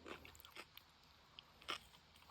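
Homemade pickled cucumber is bitten and chewed outdoors, producing a few sharp, crisp crunches, quiet but close.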